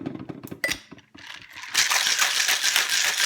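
A glass of Vietnamese iced coffee with ice cubes is shaken, giving close, rapid rattling and clattering that starts uneven and builds into a dense, steady churn.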